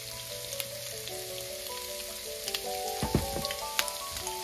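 Shrimp seasoned with salt and pepper sizzle steadily in a hot pan, a continuous crackling fry with a few louder pops and clinks of a utensil near the end.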